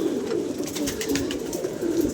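Several pigeons keep up a constant low cooing, a warm burbling drone that stays close and even from start to finish, with no talk.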